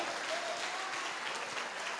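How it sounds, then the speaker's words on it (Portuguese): A church congregation applauds during a worship service, steady crowded clapping at moderate volume that carries on evenly throughout. "Vai aplaudindo a ele aí"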